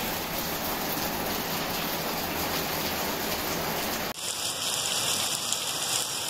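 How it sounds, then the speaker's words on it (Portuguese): Heavy rain pours down in a dense, loud hiss in Riacho das Almas, Pernambuco, changing abruptly partway through to a slightly different, steady downpour texture. "chovendo bastante, viu? Chovendo bastante."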